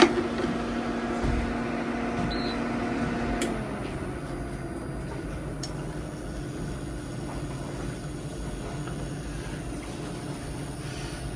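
An inexpensive IKEA induction cooktop runs on a boat, giving a steady electrical hum with a faint fan whir that drops slightly in pitch and level a few seconds in, then continues evenly.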